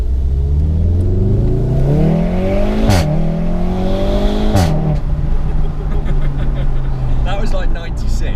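A loud exhaust from an Akrapovic-equipped Golf R or a straight-piped BMW Z4, heard from inside the car with the windows down, revs up through two gear shifts, then settles into a steady drone with wind and road noise.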